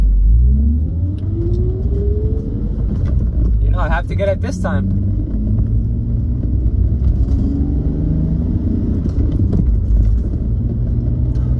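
A car drives along with a low rumbling engine and road noise, revving slightly at times, while a person talks over it inside.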